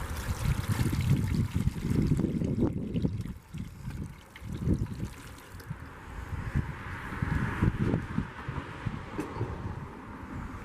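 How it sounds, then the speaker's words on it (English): Water pours and splashes steadily into a Dutch oven, about a half gallon, for several seconds, a close gurgling rush that thins to a lighter trickle toward the end. "first in goes about a half gallon of water."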